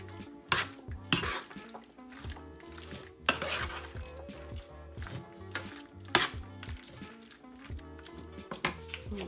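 Ground beef mixture with Velveeta stirred in a pan on low heat: close scraping and clattering strokes of a spoon against the pan recur every second or two over a soft background sizzle, with no voices.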